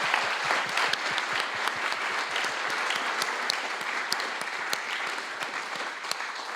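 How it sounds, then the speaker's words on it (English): Audience at a student hackathon competition applauds the six teams, a sustained, fairly distant patter of many hands with sharp individual claps standing out throughout. "So I would like you to give a big applause again to all the 6 teams."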